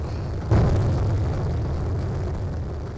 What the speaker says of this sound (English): Oh. I exploded again.